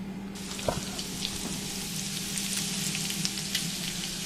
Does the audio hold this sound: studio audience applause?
no